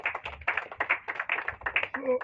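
A church audience claps in uneven bursts, a patter of hand claps of moderate loudness, ending with a brief voice.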